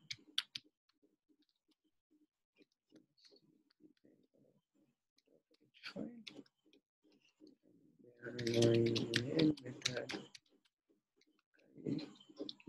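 Someone typing C++ code on a computer keyboard in a quiet room, sparse scattered key clicks that swell into a denser, louder flurry of typing near the end, with a few faint words spoken.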